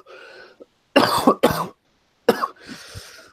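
A man coughs profusely in several harsh, loud bursts, with short quiet gaps between the fits.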